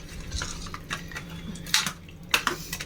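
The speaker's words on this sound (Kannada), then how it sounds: "ಸೇರಿಸ್ಕೊಂಡು ಒಂದು ಸಲ ತಿರುಗಿಸ್ಬಿಟ್ಟು ಮಿಕ್ಸ್ ಮಾಡೋಣ ಚೆನ್ನಾಗಿ ಮಿಕ್ಸ್ ಮಾಡ್ಕೊಳ್ಳಿ" Spoon scraping and clinking against a pot while homemade sambar powder is stirred into mutton curry, with a few sharp metallic knocks and steady scraping, close and fairly loud, no talking.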